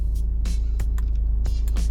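A Range Rover Evoque engine idles steadily nearby, a low constant hum with a few clicks and small knocks over it and no voices.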